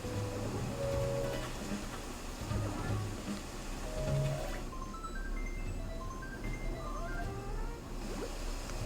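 A cat meows several times in a game, the short tonal calls rising over a busy background of game music and ambient sound.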